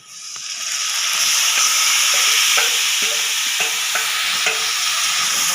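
Chicken rubbed with spices sizzles loudly as it goes into a pan of frying onions, a steady hiss with a few sharp scraping clicks from stirring.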